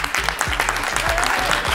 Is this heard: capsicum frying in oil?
no